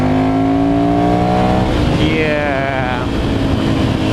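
A motorcycle engine revs through a newly fitted muffled exhaust, a deep note that rises and falls in pitch, loud and close, with a brief word spoken over it.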